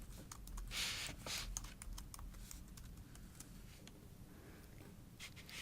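Keys clack rapidly on a computer keyboard as a password is typed at a login screen, a close, quiet run of taps with short pauses and no talking.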